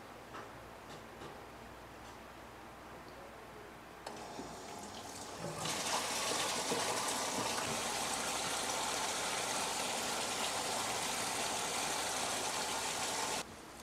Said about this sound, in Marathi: आता मोटर चालू झाली आहे म्हणजे खालच्या टाकीमध्ये पाणी आहे